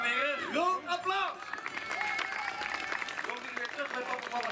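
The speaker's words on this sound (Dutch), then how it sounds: "Dames en heren, een groot applaus!" Crowd applause and cheering rise at an Efteling theme park stage show during the Negen Pleinen Festijn, following loud, animated voices, with steady clapping filling the second half.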